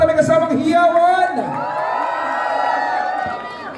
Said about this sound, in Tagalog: palakpakan may kasamang hiyawan